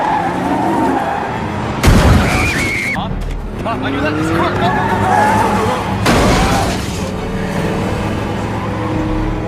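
A car skids with loud tire squeals and roaring engine noise, two sharp impacts punctuating the sustained screeching, with shouted voices mixed in.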